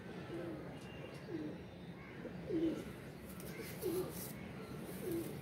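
High-flying pigeons coo in a slow, regular series of about four soft, spaced calls, fairly faint over a quiet low background.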